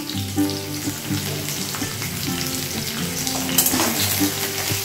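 Pointed gourd (potol) and vegetables crackle and sizzle loudly in a pan close by, a continuous frying hiss with light stirring and a background hum, no voices.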